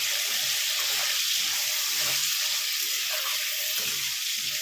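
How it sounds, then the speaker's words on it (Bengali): Onions frying in hot oil for a prawn curry, giving a steady, close sizzle with faint stirring scrapes throughout and no talking. "পেঁয়াজটাও আমি ভালো করে ভেজে নেব"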